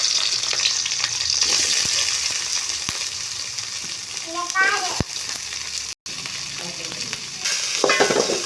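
Onions and green chillies sautéing in a pan for idli upma, a loud close sizzle with stirring scrapes and spoon taps, while a voice speaks briefly over it partway through.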